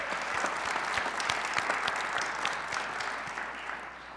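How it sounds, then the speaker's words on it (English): An audience at the 2012 Montgomery College alumni awards applauds the distinguished alumni, a dense, sustained round of clapping from many hands that stays full for several seconds and tapers slightly at the end. "I think that we should give them another round of applause for all of their accomplishments."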